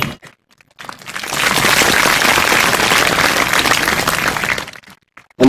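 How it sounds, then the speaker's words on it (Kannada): An audience claps together in sustained, dense applause that builds quickly after a brief pause, holds steady and loud for several seconds, then tapers off abruptly. "ಎಲ್ಲರೂ ಸೇರಿ ಚಪ್ಪಾಳೆ ಹೊಡಿಬೇಕು"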